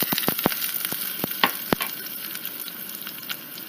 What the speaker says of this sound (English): I'm going to add the mustard seeds. And when they splutter